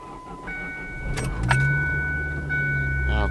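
A Ford Focus SVT ZX3 hatchback engine cranks and catches, settling into a low idle, with a brief jangle of keys and a chime before it.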